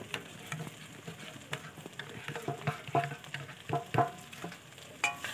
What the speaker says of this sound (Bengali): দেখো এই খুন্তিটা দিয়ে পেস্ট করে নেবো মশলাটা।